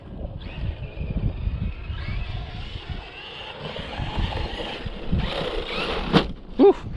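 A Traxxas Maxx V2 RC truck run at full throttle over bumpy ground, a steady high-pitched motor whine with rough rumble and wind buffeting throughout, a few sharper bangs near the end.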